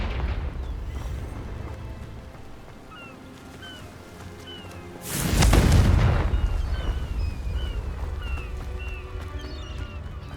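A Confringo spell explodes in Hogwarts Legacy as a single loud, deep blast about halfway through, followed by a long rumbling roar that slowly fades over ambient game sound.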